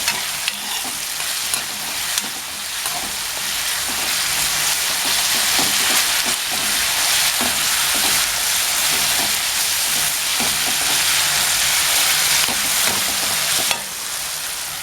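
Tomato and ginger fry in a pan with a loud, continuous sizzle, broken by repeated scraping stirs of a spoon throughout.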